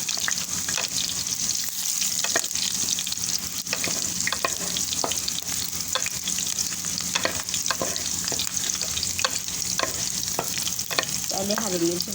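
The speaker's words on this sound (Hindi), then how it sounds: "पहले हरी मिर्च भून देंगे ना" Green chillies frying in ghee and mustard oil for a potato and egg dish, a steady close sizzle with repeated sharp stirring scrapes against the pan throughout.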